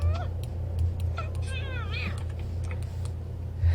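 Game cat from The Sims 2 meows in several short, bright calls over a steady low electronic hum, with a person talking between them.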